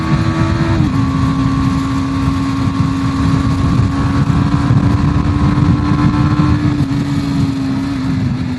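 A BMW G310R motorcycle climbs a mountain road uphill, its engine a steady, loud, close droning hum with a brief pitch drop from a gear change near the start, then holding an even tone throughout.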